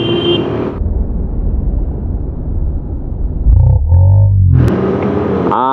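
A truck roars past up close on a road toward Puncak, Bogor, its loud engine rumble and shifting tones filling the clip.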